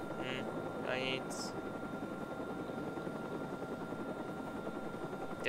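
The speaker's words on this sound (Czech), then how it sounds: "To je ten vrtulník" A helicopter in the video game Watch Dogs gives off a steady rotor drone that holds at the same level throughout, with a few brief higher game sound effects near the start and a short burst at the very end.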